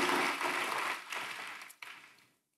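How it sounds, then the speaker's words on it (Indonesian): A church congregation claps for its worship leaders and musicians, a moderate burst of applause that thins and tapers off to silence after about two seconds. "Boleh kasih tepuk tangan buat para worship leaders dan musicians"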